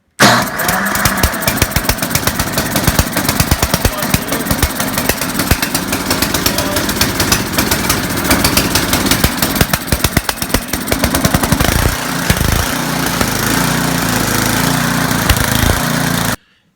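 A snowblower engine started with its electric start fires up and runs loud and close, a rough, rapid sputtering roar that holds steady for the whole stretch and cuts off abruptly at the end.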